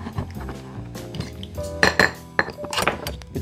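A spoon stirs a Sauternes cocktail in a glass with a few bright clinks and light scraping, close and fairly loud, with no talking.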